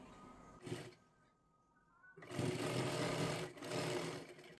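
A sewing machine stitches a katori blouse in short runs: a brief burst, a quiet pause, then a longer steady stretch of fast stitching, all fairly soft and close.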